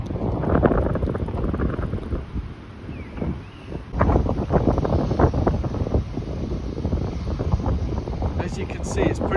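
Strong wind buffets the microphone in steady gusts beside the fast-flowing, flooded River Severn at Worcester during Storm Franklin, roaring low and continuous while someone talks over it.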